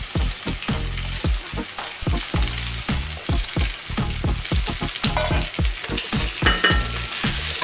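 Kurdai crumbs tipped into a hot kadhai, a loud close sizzle broken by rapid rhythmic scraping and clacking of a spatula stirring throughout.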